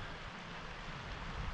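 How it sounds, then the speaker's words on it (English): A mountain waterfall spilling down rocks beside a creek on a Montana trail, a steady, broad rushing wash that holds even and fairly faint with no voices. "There's a waterfall right here coming down these rocks."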